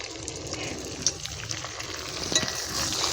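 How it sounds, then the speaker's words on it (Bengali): A spice mixture of cumin and chili is slowly stirred in a hot pan for shrimp biryani, a moderate sizzle with scattered scraping and clinking of the utensil, close by and without talking. "এবার আমি আস্তে আস্তে নাড়ব।"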